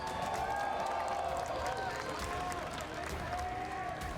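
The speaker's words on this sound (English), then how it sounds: "Can we get a round of applause for G2," An esports arena audience at the EWC 2024 League of Legends semifinal applauds G2 Esports. The clapping and crowd roar form a dense, steady wash, and a voice speaks over it.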